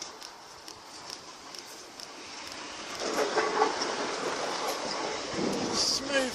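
Train pulling away from Shepreth junction, a rising rumble that grows louder midway with rail clatter and hiss, heard outdoors from trackside.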